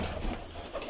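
Pigeons, paired Parwazi breeding birds, give a soft, brief coo at close range, low and murmuring, heard alone without talk.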